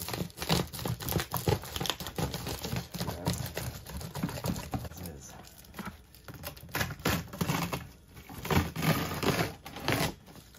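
Reflectix foil insulation being taped onto a Coleman cooler, with close, busy crinkling of the foil and quick tearing and pulling of tape in repeated bursts, without talk.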